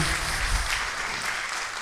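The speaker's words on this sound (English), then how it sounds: "big round of applause there" Audience applause fills a keynote talk at a youth mental health summit: a dense, steady wash of many hands clapping close by, holding at an even loudness for the whole stretch with no voice over it.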